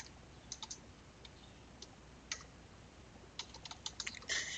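Soft, sparse keystrokes on a computer keyboard while Python code is typed, scattered clicks in small clusters ending in a quicker run of taps, faint against a steady background hiss.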